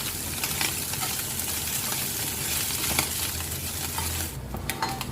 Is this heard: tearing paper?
no